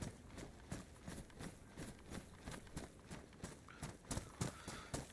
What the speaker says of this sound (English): I hear some deer over this way.